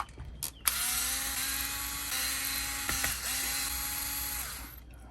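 Small power driver with a 2.5 mm hex bit backing out top screws: a steady high-pitched whirring motor run that starts abruptly, pauses briefly twice, then continues before stopping, close and fairly quiet with no talk.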